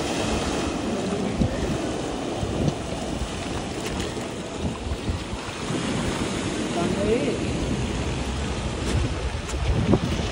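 Sea waves at the Gateway of India in Mumbai wash steadily against the waterfront, a continuous broadband roar mixed with gusty wind buffeting the microphone throughout.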